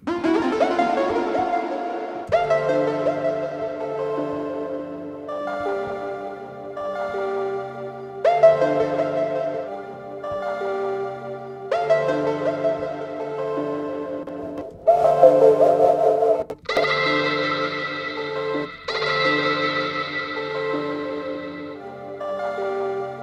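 A bright synth plays a repeating arpeggiated pattern, notes stepping up and down in a steady rhythm, with the phrase shifting pitch every couple of seconds.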